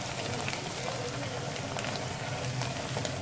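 Chopped onions, four to five of them, fry in a pan and have turned light golden, giving a steady, dense sizzle and crackle that runs evenly throughout without any talking.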